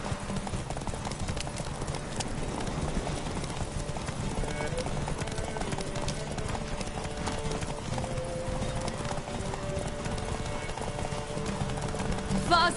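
Roach the horse gallops in The Witcher 3, with rapid rhythmic hoofbeats that stay loud and steady throughout and occasional snorts, while a voice talks over the running hooves.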